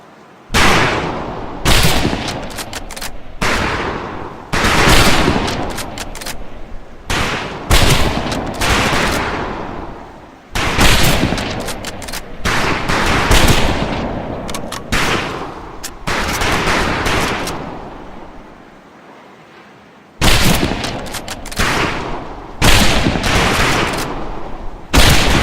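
A rifle range in Medal of Honor Pacific Assault rings with a loud, sustained volley of gunfire, overlapping shots and bursts crackling nearly nonstop for long stretches with one brief lull, then firing resumes.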